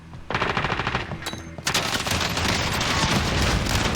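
Rapid automatic gunfire in Call of Duty: Warzone, a dense, loud burst of shots that briefly drops, then resumes as continuous heavy firing and explosive clatter, close-up without talking.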